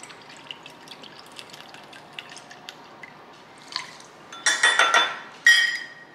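Organic brewed shoyu soy sauce poured into a dish, first faint drips and small clinks, then a louder burst of liquid splashing and glugging near the end.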